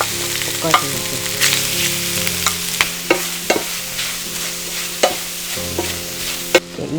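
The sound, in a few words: squid being stir-fried in a pan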